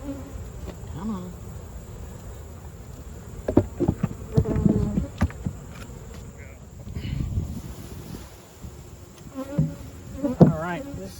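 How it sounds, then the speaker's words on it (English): Honey bees swarming around an open beehive, a constant close buzzing hum with individual bees zipping past, while a person speaks intermittently and rustles equipment. "There's a lot of bees on the screen."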